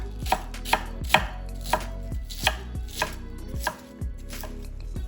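A kitchen knife shreds carrot finely on a cutting board for yakisoba, giving a steady run of about nine sharp, close chops with brief pauses between them and no talk.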